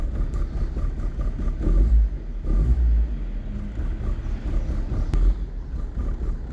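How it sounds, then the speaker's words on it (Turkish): An old car's engine, heard from outside by the exhaust, revs up in deep rumbling surges over a steady rough idle, loud and close with no talking. "Şimdi gaza geçsin onu da göstereyim size."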